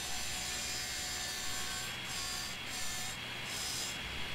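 Saws grinding against an SUV in a car destruction video game: a steady, fairly faint rasping drone that barely changes across the stretch, with brief dips in the upper hiss and no voices.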